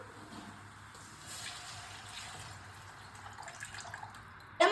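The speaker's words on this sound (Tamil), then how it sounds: "நல்ல மசாலா வதங்கிட்டு இப்போ நம்ம குழம்புக்கு தேவையான வாட்டர் ஊற்றிக்கலாம்" Water being poured into sautéed curry masala in a pan for a kuzhambu, a soft continuous pouring and splashing wash at moderate level, ending in a sharp clatter.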